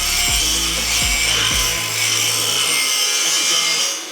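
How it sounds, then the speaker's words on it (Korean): Grinding and polishing a freshly cut steel H-beam for reinforcing a sagging balcony, a steady abrasive hiss with a few low scraping strokes at the start, close and continuous with no talk. "재단된 빔은 연마 작업을 진행해서 깔끔하게 만들어줍니다."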